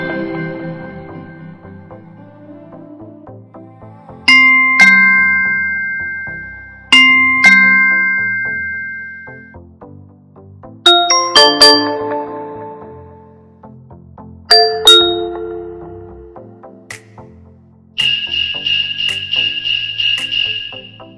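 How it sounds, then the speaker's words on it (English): An Amazon Echo plays a run of Ring doorbell chimes: several separate ding-dong and bell tones, each ringing out and fading, then a final buzzy tone near the end, loud and close with no voices. "I will now show you some of the different rings you can choose for your doorbell."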